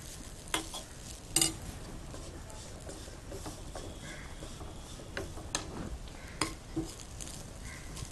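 Coconut roasting in ghee in a pan while a spoon stirs it, with scattered clinks and scrapes against the metal over a low sizzle, and a voice talking throughout.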